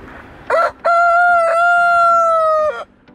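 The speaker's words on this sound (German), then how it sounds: "Das ist ein Hahn, ne?" On Madeira, a rooster lets out one loud, close cock-a-doodle-doo that starts with a short note and then holds a long, steady call.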